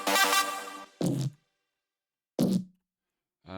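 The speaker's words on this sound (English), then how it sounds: "some of the kind of synths and mid-bass sounds." Two synth and mid-bass sounds from the track, heavily saturated: a bright buzzy synth chord, then short punchy bass stabs separated by silence.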